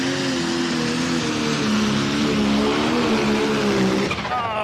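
Easy Rider pulling tractor revving hard at the start of a pull at the Edewecht tractor pulling event, a loud sustained engine roar with shifting harmonics that drops off sharply near the end.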